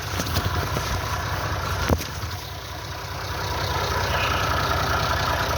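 Farm tractor engine idles near a crop field, a low continuous diesel rumble with a brief clunk early on and a slight rise in level toward the end.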